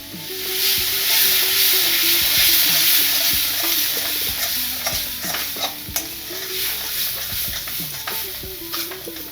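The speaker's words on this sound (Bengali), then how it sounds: "এবার একটু সামান্য গরম জল দিলাম, নইলে মশলাটা পুড়ে যাবে।" Spice masala in a pan, thinned with a splash of hot water for a potol chingri curry, sizzles steadily and close while a spoon scrapes and stirs in repeated rhythmic strokes, with no voices.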